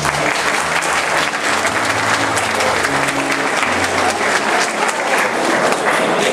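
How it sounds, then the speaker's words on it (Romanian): A church congregation claps together in steady, dense applause that stays loud and even throughout, with no voices rising above it. "Vreau să-i aplaudăm pe cei care s-au ridicat."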